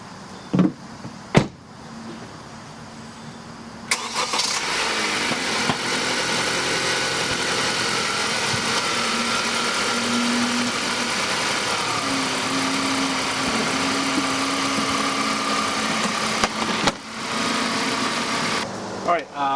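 A 2015 Honda Accord's engine cranks and starts after a door clunk, then idles steadily at a moderate distance before a few more clunks near the end.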